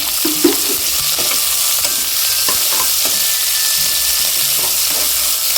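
Onions with curry leaves frying in a pan for tomato rice, a loud continuous hiss and sizzle with occasional soft stirring knocks throughout.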